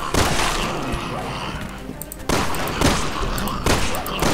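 Rapid gunfire in the PC game Resident Evil 6, fired at zombies in a steady run of loud, close bursts with sharp booming shots breaking through, continuing for the whole stretch.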